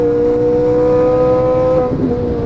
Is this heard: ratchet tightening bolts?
no